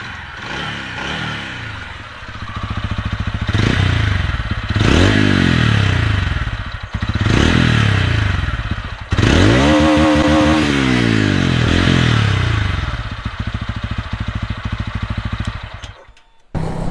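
A 2025 TVS Ronin 225 motorcycle idles and then revs repeatedly. Several rising throttle blips build into a loud, close engine and exhaust note before it cuts off near the end.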